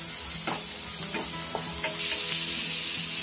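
Spice masala with garam masala and turmeric frying in a pan for aloo matar sabzi, a steady close sizzle with a few soft stirring scrapes, growing louder and brighter near the end, no talking.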